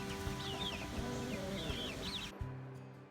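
Young pullets a few weeks old clucking and chirping close by on a farm, with a steady low hum beneath the repeated calls that cuts off abruptly near the end.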